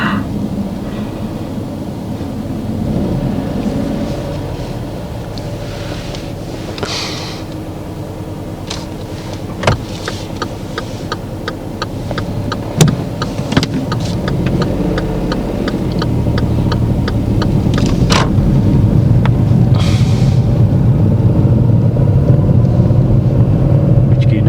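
A learner driver's car pulls away during a driving lesson, a steady low engine and road rumble building gradually, with a few faint clicks and knocks from the cabin.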